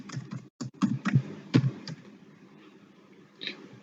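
Quick bursts of keystrokes on a computer keyboard as a parameter name is typed in Tableau, a short run of close, crisp taps followed by a few softer clicks after a pause.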